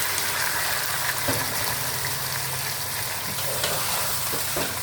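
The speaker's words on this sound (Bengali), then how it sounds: "এখন আমি এর মধ্যে মুরগিটা" Steady sizzling of chicken frying in a hot pan for chicken korma, a continuous broadband hiss with a low hum beneath and occasional faint clinks.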